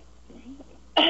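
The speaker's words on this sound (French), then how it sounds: "j'aimerais vous entendre tousser" One sharp cough bursts out at the very end after a brief quiet pause with faint throat sounds, loud and close.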